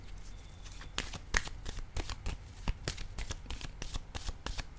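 A deck of playing cards is riffled and shuffled in a quiet room, with a steady run of crisp papery flicks and snaps, close and clear, and no talking over it.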